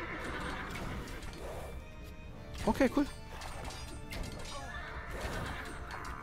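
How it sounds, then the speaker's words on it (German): Several horses neigh and whinny in the Age of Empires 2 video game as units kill them, with a loud burst of cries in the middle under game sounds and someone speaking briefly. "Oh, wir bringen Pferde um,"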